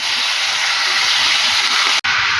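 Chicken liver sizzling in a hot frying pan, a steady close broadband hiss that runs unbroken with one brief drop near the end.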